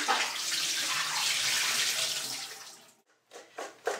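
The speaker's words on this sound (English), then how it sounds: "I'm going to drain the lemon water off of this and we'll put it directly into the pan" Lemon water drains off crab apples into a pan in a steady broadband pour lasting about three seconds, then breaks into a few short splashes and drips as the flow stops.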